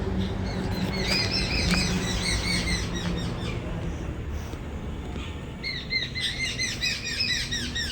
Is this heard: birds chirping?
yes